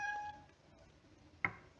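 A pet cat in a home kitchen gives a short, faint meow, followed after a pause by a brief sharper chirp-like call, with quiet background and no speech.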